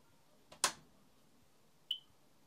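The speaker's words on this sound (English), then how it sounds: "It beeped." A couple of soft clicks, then a single short high electronic beep as a Lear Siegler ADM-31 computer terminal powers up, faint in a quiet room.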